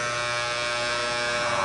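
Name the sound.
electric shaver in the movie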